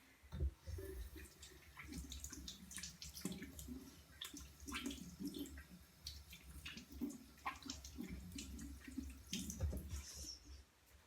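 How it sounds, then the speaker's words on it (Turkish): Tap water runs into a sink while someone washes their face, a steady close splash broken by irregular slaps and splatters of water over about eleven seconds, without speech. "Ben bir yüzümü yıkayayım."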